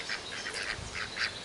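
Several ducks quack in a farmyard, a rapid run of nasal calls at moderate distance over a steady outdoor background, with no voices.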